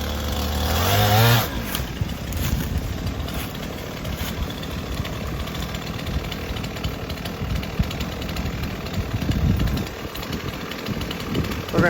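A chainsaw engine idles nearby before firewood is cut from downed trees, a rough steady rumble after a louder revving burst at the start.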